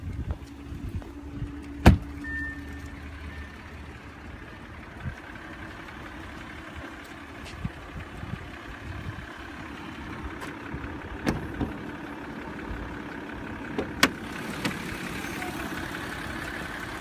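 Supercharged 3.0-liter TFSI V6 in a 2017 Audi Q7 with an 8-speed Tiptronic automatic, idling at a steady low hum with a few faint clicks and knocks around it, and no talking.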